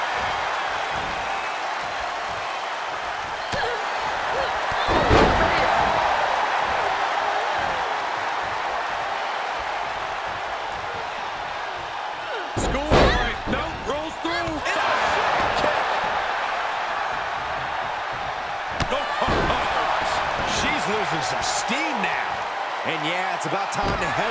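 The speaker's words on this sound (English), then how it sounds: "Airport net slam!" Heavy body slams thud in a WWE 2K22 women's match, a few loud impacts standing out above a steady arena crowd roar while a commentator talks throughout.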